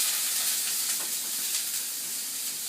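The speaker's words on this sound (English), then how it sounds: "Now that our mushrooms are sauteing, can you hear that sizzle?" Portobello mushrooms sizzle in a saucepan, a close, steady crackling hiss with faint pops that eases slightly toward the end, heard alone.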